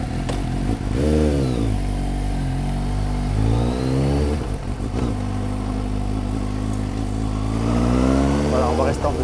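A motorcycle at a riding-school demonstration on a cone course accelerates and revs repeatedly in second gear, engine pitch rising and falling close by, with an instructor talking over it.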